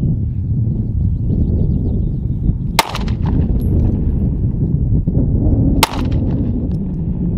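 A Smith & Wesson M&P Shield Plus pistol fires two sharp, loud gunshots about three seconds apart over a steady low rumble of range wind noise, with no talking.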